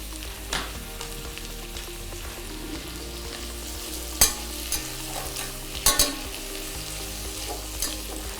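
Vegetables including carrot frying in a pan for quinoa khichdi, a steady crackling sizzle broken by several sharp spatula scrapes and knocks, close by and without talk.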